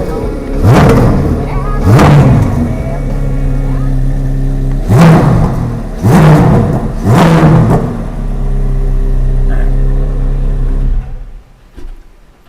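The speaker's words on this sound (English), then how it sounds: "Let's rev it up." A 2025 Corvette Z06 engine with a flat-plane crank revs sharply four times in quick bursts over a steady idle, then falls quiet near the end.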